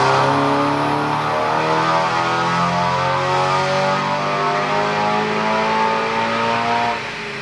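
A Stage 3 tuned, roughly 500 bhp Audi S3 revs hard on a dyno run, its engine note climbing steadily in pitch through a long, loud pull before dropping off sharply at the end.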